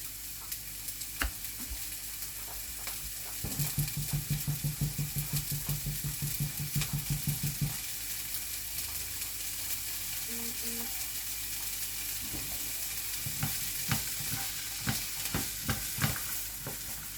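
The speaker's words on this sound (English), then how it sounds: "Making sure that I'm continuously stirring them so they don't stick to the pan and they don't burn." Onions and pasta fry in a pan while being stirred continuously, a steady close sizzle broken by scraping and clicking utensil strokes and a stretch of rapid rattling, with no speech.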